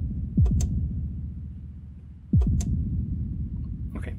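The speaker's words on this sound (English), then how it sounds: "so let's try that out with the kick drum." Two kick drum hits pass through the reverb board of a Gotharman's Little deFormer 3, each a deep thump with a click on top and a short low reverb tail, about two seconds apart.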